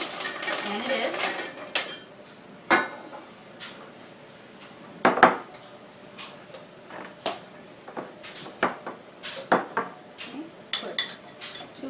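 Butter and apple pieces stirred in a pan, irregular scraping and sharp clinks of utensil on metal spread across the stretch, with a person talking intermittently over the kitchen clatter.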